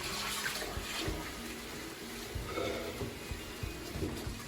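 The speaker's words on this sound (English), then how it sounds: "what I'm gonna do now is to just add a bit of water." Warm water poured from a tap into a bowl of soaking kidney and liver, a continuous close splashing gush with small uneven gurgles and no talk.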